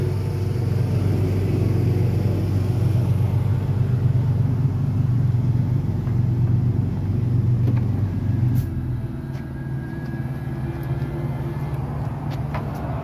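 A 2022 Ford F-250 diesel pickup idles with a steady, close, low rumble that holds even throughout, easing slightly toward the end, with no one talking.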